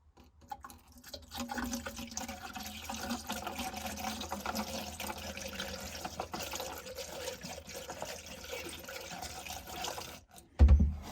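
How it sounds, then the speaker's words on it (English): RV antifreeze poured from a water bottle into a travel trailer's drains during home winterizing, a steady close liquid pour and gurgle lasting about ten seconds with no talk, ending in a brief louder splash. "pour about a water bottle full, probably in the gray tank and the black"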